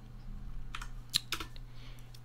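A handful of faint computer keyboard taps as a compact code conditional is typed, with quiet, scattered clicks over a low steady hum.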